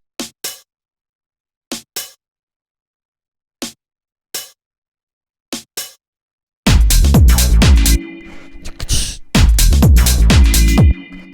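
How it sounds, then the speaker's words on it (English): Drum machine hi-hat and snare from a minimal deep house track: a few sparse, dry hits spaced apart, then a dense, loud full groove with the hi-hat ticking off the snare. "Then we have this little drum machine hi-hat, which is playing off of the snare."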